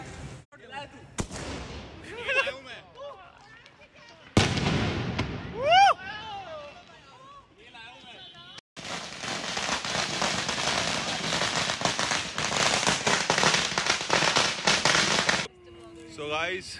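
Firecrackers burst during a Diwali celebration in a housing society, with sharp pops and whistling rockets followed by a long, dense crackling barrage, loud and close, while people talk and shout nearby.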